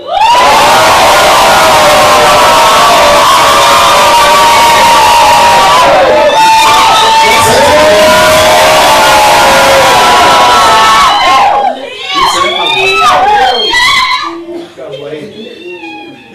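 A church congregation shouts and calls out together in a loud, sustained crowd roar, thinning near the end into scattered individual cries and shouts.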